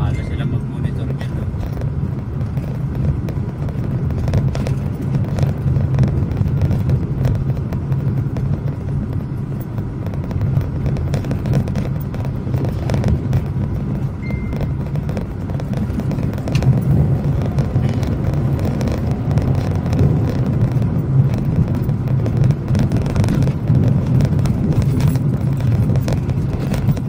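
Inside a moving car, a steady low road-and-engine rumble runs throughout the ride, with voices talking over it.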